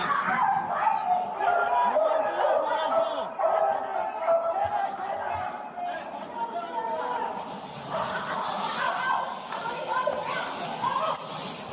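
A dog barks and yips amid a noisy crowd, its sharp calls repeating over steady background chatter and commotion, with people talking throughout.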